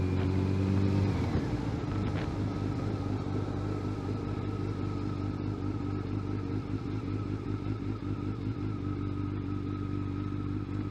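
A Kawasaki Ninja ZX12R motorcycle being ridden, its engine a steady, loud drone with a low rumble throughout, a brief gear change or throttle shift near the start, and no talking.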